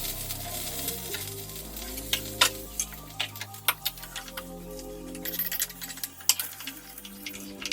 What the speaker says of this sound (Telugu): కొద్దిగా జీలకర్ర, ఆవాలు, మిర్చి, ఎండుమిర్చి, కరివేపాకు, కొద్దిగా పసుపు వేసుకొని అయితే పోపు పెట్టేసుకుంటున్నా